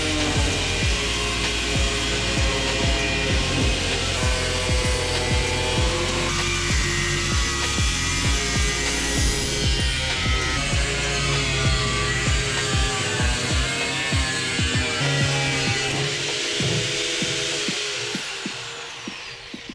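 Power tool cutting out the steel transmission tunnel of a car for an RB25 engine swap, a continuous loud whine with grinding and rattling that fades out near the end.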